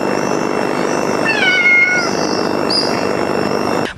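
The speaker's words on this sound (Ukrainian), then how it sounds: "Воно нявчало, чим і привернуло увагу перехожих." A single drawn-out kitten meow, high and wavering, close by, followed by a faint squeak, over steady background noise.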